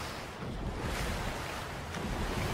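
Steady broadband water rush of a current while swimming in Fortnite during a 2v2 squad elimination match, a continuous surf-like wash with a brief dip in level near the start, no voices.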